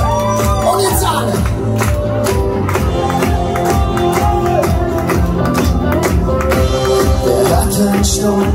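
An audience at Marc Koch's comedy show in the Heidekrug, Oberhausen, claps in a steady rhythm along to loud music, with the claps blending into a continuous crowd din.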